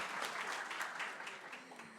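Audience applause at a symposium, a steady spread of many hands clapping at moderate distance, fairly soft and even throughout without a clear end.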